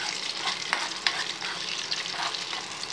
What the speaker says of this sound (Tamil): இப்போ இறக்கிட்டு முந்திரியும் திராட்சையும் வறுத்து கொட்டிடுவோம்